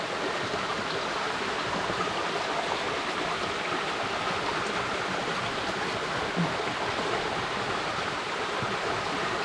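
A river stream near Cesar Falls in Tanay, Rizal, rushes and burbles continuously, a close, constant wash of flowing water with no break and no talking.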